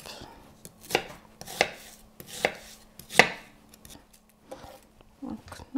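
A knife coarsely chopping an onion on a board, with about five spaced, crunchy cuts followed by a few softer knocks, close by in a quiet room.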